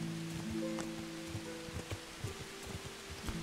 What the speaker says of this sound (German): Es fängt an zu regnen, wie immer eigentlich bei meinen Sachen